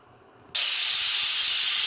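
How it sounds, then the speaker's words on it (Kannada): A pressure cooker on the stove, with jackfruit biryani inside, suddenly lets out a loud, close, sustained hiss of escaping steam as its whistle goes off after a quiet moment, and no one speaks. "ಕುಕ್ಕರ್ ವಿಶಿಲ್ ಆಯಿತು."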